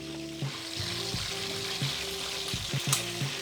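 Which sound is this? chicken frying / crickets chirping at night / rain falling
chicken frying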